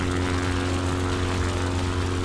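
Propeller plane in flight in Microsoft Flight Simulator, its engine a loud, continuous droning hum with steady tonal throb, heard alone without any voices.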